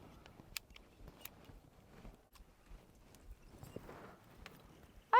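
Ratchet secateurs snipping a mulberry branch at a 45-degree angle, a series of faint, close clicks and crisp cuts spaced irregularly, ending in a louder snap.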